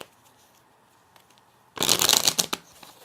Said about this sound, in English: And I'm going to also give them a quick shuffle.